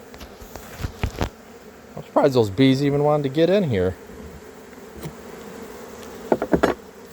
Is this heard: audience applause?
no